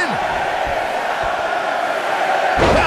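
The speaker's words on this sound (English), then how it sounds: "Listen to this crowd." Large arena crowd roaring throughout a women's Royal Rumble wrestling match, a dense steady wall of cheering that swells louder near the end, with commentators talking over it.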